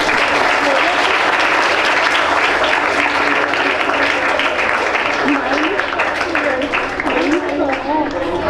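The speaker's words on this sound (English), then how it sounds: "Can we have a round of applause?" A school program audience claps and applauds steadily for several seconds, a dense, continuous roar of hands that is loud and close throughout.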